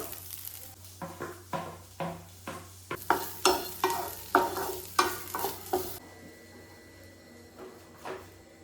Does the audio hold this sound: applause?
no